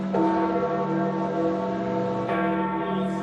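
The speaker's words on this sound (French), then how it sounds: "au rythme des cloches du Vatican" Large church bells of the Vatican ring in a sustained, resonant peal, loud and steady, their tones overlapping and lingering.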